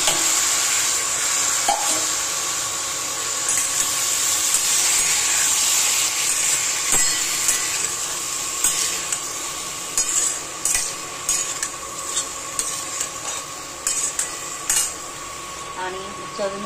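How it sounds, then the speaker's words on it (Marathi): Potatoes frying in a pan while being stirred, a steady sizzle with scraping and clinking of a utensil against the pan that grows more frequent toward the end, close up and with no talk. "आणि हे बटाटे टाकून घ्यायचे."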